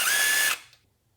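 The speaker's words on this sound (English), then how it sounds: "I'm gonna use a drill for this last part." A power drill spins out cylinder head bolts on a Honda D-series engine in an EG hatchback, giving one short, close, high-pitched whir that cuts off abruptly into near silence.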